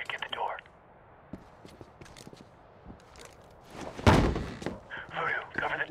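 In Medal of Honor (2010), a door is forced open with a single heavy thud and slam near the middle, set among quiet shuffling, with voices speaking briefly at the start and end.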